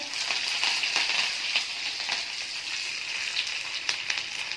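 Dry red chillies and curry leaves sizzle in hot oil with cumin during tempering for dal sambar, a steady close frying hiss with small crackles and pops throughout.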